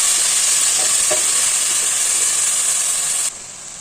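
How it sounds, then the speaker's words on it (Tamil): Soaked rice fries in hot oil and ghee, giving a loud, steady sizzling hiss that holds evenly and then drops slightly near the end, with brief stirring scrapes and no voices. "எல்லா ரைஸையும் போட்டு இந்த ஆயில்லையும் கீலையும் நல்லா ஃப்ரை பண்ணிக்கலாம்"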